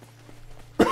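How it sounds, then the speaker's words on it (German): A single sharp, close cough bursts out at the end after a near-silent stretch, from a person playing the game Dauntless. "Mann, warum kriege ich jetzt wieder Husten?"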